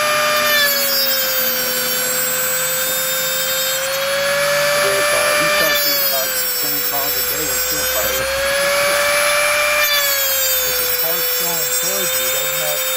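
A saw being sharpened on a grinder gives off a loud, steady high whine with a shifting scraping edge that pulses every few seconds as sparks fly into the tooth, with a voice talking over it.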